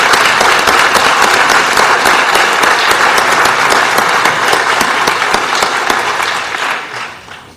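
Sustained applause from an audience at a Los Angeles County board meeting honoring a retiring chief medical examiner, dense steady clapping filling the room for about seven seconds before tapering off at the end.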